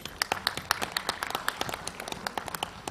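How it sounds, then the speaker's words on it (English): Scattered hand clapping from a small conference audience, a steady patter of claps lasting a few seconds with no voices over it. "please give a huge round of applause for Mr. Ganesh Chandru."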